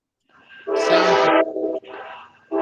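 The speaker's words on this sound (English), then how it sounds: "we got a train coming, so I'll try to speak in between the blowhorns." A passing train sounds its horn up close: a loud chord held for under a second, a lower tail, a brief gap, then a second softer blast that starts another.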